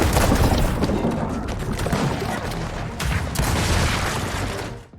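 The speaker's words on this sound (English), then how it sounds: "each time you fire the Raging Buccaneer, you'll be treated to a super cinematic slow-mo effect" Golden Raging Buccaneer shotgun firing in the High on Life 2 video game, a dense sustained blast of booming gunfire with a slow-motion cinematic effect, loud and continuous before cutting off sharply at the end.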